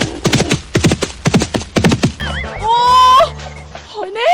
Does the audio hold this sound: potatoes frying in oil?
no